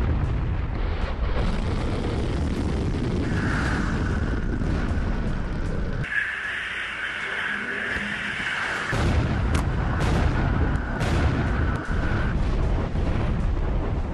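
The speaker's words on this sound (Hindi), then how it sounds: "अब पुतिन ने एक ऐसे मिसाइल का परीक्षण कर लिया है जो एक साथ 10 परमाणु वॉरहेड ले जाने में सक्षम है।" Russian Sarmat intercontinental ballistic missile test launch: a sustained, powerful rocket roar with a steady high whine running through it, loud and unbroken, dipping briefly midway before surging back, with no voices.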